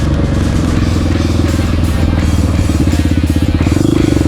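A Honda XR650R supermoto's single-cylinder engine revs loudly and close by, holding a steady, throbbing pulse throughout with a slight rise near the end.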